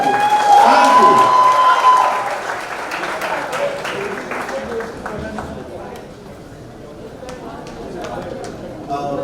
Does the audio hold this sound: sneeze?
no